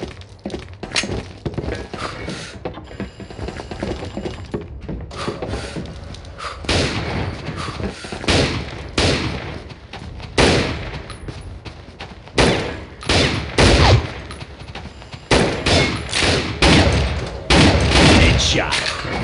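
Pistol-only shooting in a video game match, with many sharp gunshots fired singly and in quick clusters, loud and close, plus occasional thuds.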